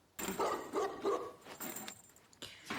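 Dog barking in a Squid Game episode, several quick close barks and yips in an uneven burst, fairly faint overall, with no talk.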